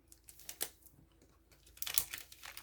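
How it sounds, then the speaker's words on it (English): Scissors cut through two paper sheets at once, giving quiet, close crisp snips and rustles in two short bursts separated by a pause. "So I'll cut two at the same time."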